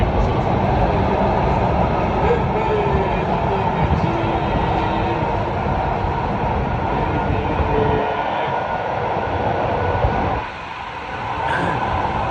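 An almost empty metro train running at night, heard from inside the car: a loud, continuous rumble and rolling roar of wheels and motors, with a brief dip in intensity near the end.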